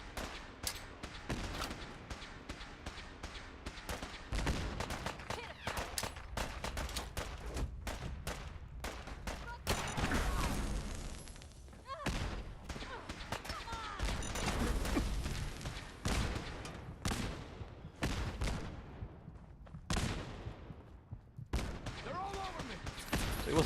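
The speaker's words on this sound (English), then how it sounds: "he just started shooting me before I even shot him" Rapid gunfire from the video game Fallout 4: loud, dense bursts and volleys of shots crack out almost continuously, with brief gaps between flurries.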